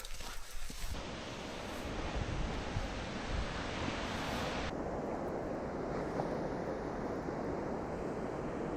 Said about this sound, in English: Walking down to the beach now.